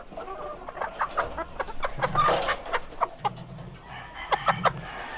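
Several hens cluck and chatter close by in a rhythmic, uneven series of short calls, with a few drawn-out squawks overlapping and low background shuffling on a small backyard flock.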